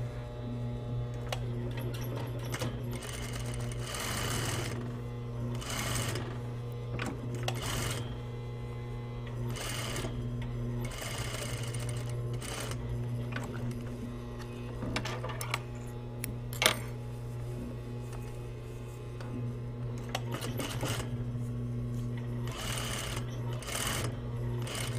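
Close, continuous sewing machine running long gathering stitches along a jacket sleeve cap, with a steady motor hum, rapid ticking needle strokes and brief pauses and restarts.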